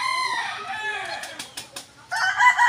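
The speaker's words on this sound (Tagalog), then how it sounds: "Ito yung bulik natin na labuyo." A native Filipino bulik labuyo jungle fowl calling nearby, loud harmonic crowing and clucking phrases broken by brief bursts of wing flapping, with no talk.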